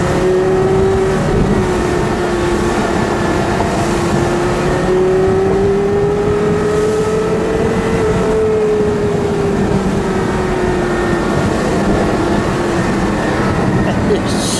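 A 2005 Porsche Carrera GT, yellow, drives along a road held in second gear, its engine droning loud and close with a slowly rising and falling pitch, and voices faintly beneath the roar.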